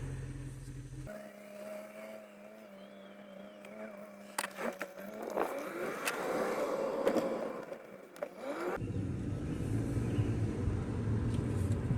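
A 2011 BMW 535 with a low boost and drivetrain malfunction code drives off: a quiet idle hum gives way to engine whine, clicks and rising road noise, then a louder, steady rumble near the end.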